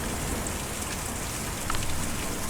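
Steady rain from the video game Kentucky Route Zero falls in a dense, even patter, with a slightly louder swell near the end and no voices.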